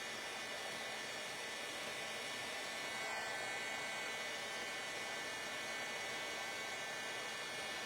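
A dryer blows steadily to dry seam binding ribbon, a continuous broadband whoosh that holds at an even level for the whole stretch, with no talking.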